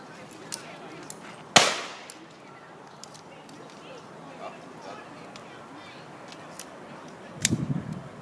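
A 5-round magazine slapped into a handgun on a concealed handgun class range: one sharp, loud metallic clack followed by scattered small clicks and a brief rattle near the end, with voices faintly in the background.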